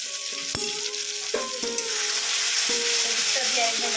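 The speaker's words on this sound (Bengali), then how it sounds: "আদাটা দিয়ে আরেকবার নাড়াচাড়া করে দিচ্ছি।" Ground ginger and turmeric fry in a pan for a vegetarian curry, a steady close sizzle broken by sharp clinks of a utensil stirring against the metal.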